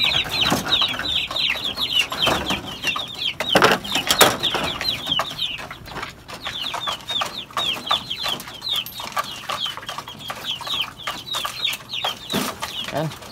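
Chickens at feeding time, clucking and squawking busily over wet feed, with a dense flock of calls close by, occasional wing flaps and a few voices talking in the background.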